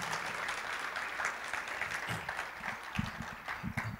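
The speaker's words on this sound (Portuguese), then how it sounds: "Você pode aplaudir o Senhor?" A church congregation claps after a prayer, a soft, even patter of many hands that stays fairly quiet and continuous, with a few sharper claps near the end.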